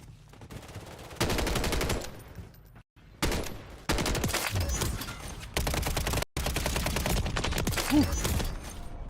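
Rapid SMG bursts from Modern Warfare 3 rattle loud and close in several long runs, broken by brief pauses and a few short gaps.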